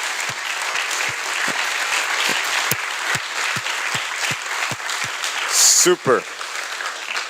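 Sustained applause from an audience at a space-flight talk by an astronaut, dense and steady throughout, with a brief spoken word and a whistle-like cheer near the end.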